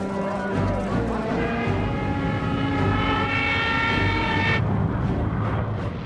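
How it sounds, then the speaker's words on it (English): World War II aircraft engines droning as planes approach, a loud sustained multi-engine roar with steady tonal hum that shifts partway through, over low rumbling. "Planes heard 3 miles southwest."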